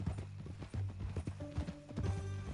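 Horse hooves clip-clopping on the ground in Red Dead Redemption 2, a steady near walking rhythm of hoof strikes, fairly quiet, with a faint tonal hum entering partway through and no talking.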